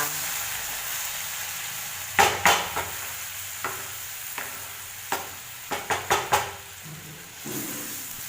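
Potato and pea curry being stirred in a pan with spices frying after water is added, a steady low sizzle broken by a string of sharp scraping and clattering spoon strokes, close and moderately loud.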